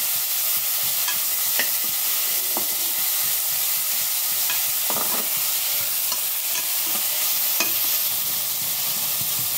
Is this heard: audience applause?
no